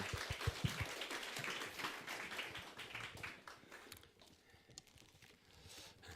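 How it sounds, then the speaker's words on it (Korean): A church congregation gives a round of applause to welcome an elder before an evangelism lecture, a dense patter of clapping that is strongest at the start and thins toward the end. "우리 장로님 박수로 우리 환영하겠습니다"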